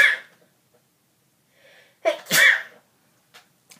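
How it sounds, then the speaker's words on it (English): A woman sneezes once, loud and close: a short sharp intake of breath, a pause, then a forceful burst that fades away quickly. "I have to sneeze."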